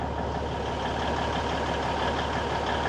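Diesel truck engine idling steadily up close while its air system builds pressure, a continuous low rumble with a faint hiss on top and no talking.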